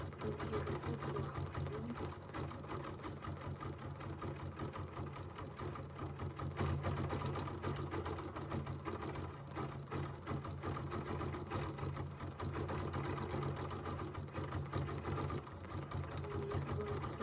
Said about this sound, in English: you are stitching with a really dark green